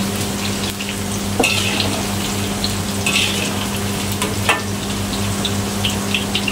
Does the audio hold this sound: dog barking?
no